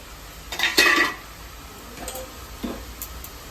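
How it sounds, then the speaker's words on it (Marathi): Umbar cluster figs tipped into a cooking pan for an Agri-Koli style dry vegetable dish, giving a few close clinks and scrapes of utensil against metal pan, one clear burst followed by softer, sparse knocks. "आणि मग आता घेतली आपली उंबरं टाकायला त्याच्यामध्ये"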